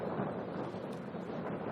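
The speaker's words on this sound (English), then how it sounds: "Holy frig, it's windy." Strong wind buffets a microphone out on a frozen lake, a steady, loud, rumbling roar that fills the whole moment without letup.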